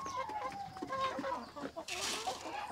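Rhode Island Red chickens on a Cebu farm cluck repeatedly during feeding, with a brief burst of scratching or flapping noise partway through, close and moderately loud.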